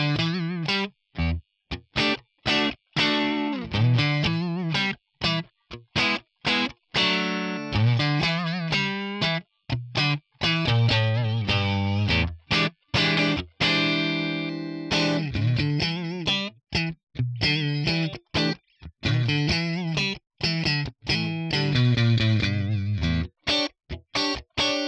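Electric guitar, a Strat, played through a ToneX V-Front Super Edge Bright amp model with no reverb, giving bright, driven riffs and chords in steady bursts with short gaps, loud and alone with no talk.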